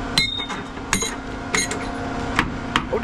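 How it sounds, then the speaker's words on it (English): A hammer strikes a twin wall elbow on a concrete pump truck: five sharp metallic clanks at uneven intervals, close and ringing over a low steady engine hum, with no one talking. "Don't hit a twin wall elbow, ever."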